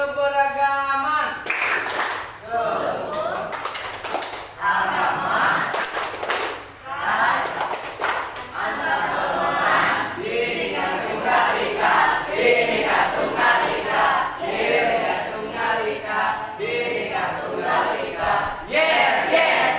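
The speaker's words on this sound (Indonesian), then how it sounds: "Sebelum mulai, Bapak mau berikan tepuk keberagaman." A classroom of students performs a rhythmic group clap with chanted call-and-response, loud bursts of clapping and voices mixed with shouts under a teacher's talk throughout.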